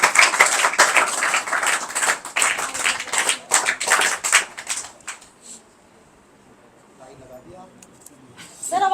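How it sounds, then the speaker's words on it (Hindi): An audience at a Scouting foundation day and flag day event claps loudly and densely to welcome a guest. The clapping fades out after about five seconds into near quiet with a few scattered sounds. "तालियां बजा के स्वागत करें।"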